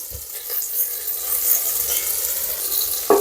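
Deseeded dried red chillies and ginger garlic paste fry in a pan for Pallipalayam chicken, making a close, steady sizzle with a brief stirring clatter near the end.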